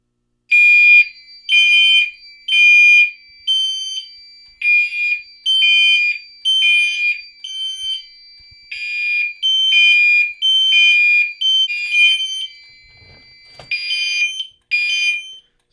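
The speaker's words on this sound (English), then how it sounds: "To test the smoke detector, I will be using this smoke detector tester spray, Smoke Centurion" A fire alarm sounds after a smoke detector is set off with Smoke Centurion tester spray, blaring a loud, repeating electronic beeping pattern in steady rapid pulses with brief pauses, alone without talk.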